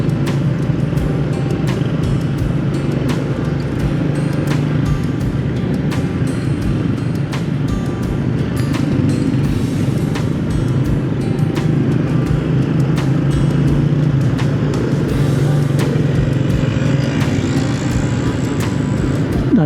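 Dense, steady traffic on a busy street at Christmastime in Kalasyaw, with many cars and motorbikes passing continuously at close range, a constant loud rumble throughout and no talking.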